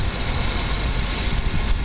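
A 2007 Chevrolet Suburban LT 4x4's 5.3-litre V8 idles with the hood up, giving a steady, even low rumble close by with no talking over it.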